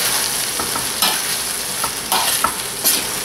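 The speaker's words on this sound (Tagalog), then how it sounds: "haluin ko lang" Seafood frying in a pan, seasoned with salt and pepper, is stirred with a utensil; steady sizzling under repeated scrapes and soft clanks, close and fairly loud, with no talking.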